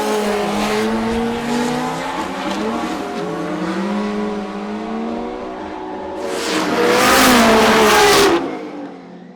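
A Formula Drift car launches off the start at a skills battle event. The engine revs hard and rises in pitch, then a loud burst of tire squeal and skidding swells near the end before cutting off.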